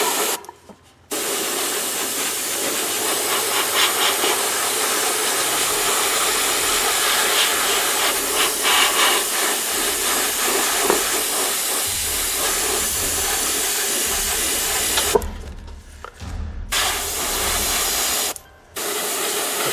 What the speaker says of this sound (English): You just heard my compressor kick back on.